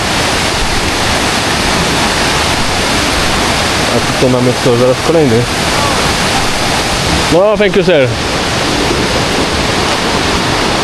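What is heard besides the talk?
waterfall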